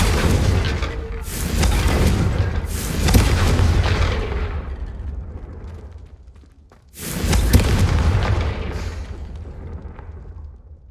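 Booming fire-spell blasts in the Hogwarts Legacy video game, two heavy explosions a few seconds apart, each a loud close burst that rolls off into a long fading rumble.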